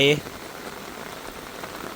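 Rain falling steadily at a home in Thailand, a dense continuous patter and hiss of drops on surfaces, close and fairly even, with a brief tonal voice-like sound at the very start.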